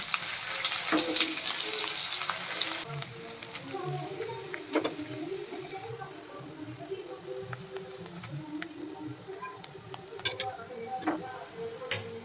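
Chopped onions and chillies fry in a pan with a loud, hissing sizzle at first that settles into a softer crackle, broken by scattered clicks and scrapes as the mixture is stirred.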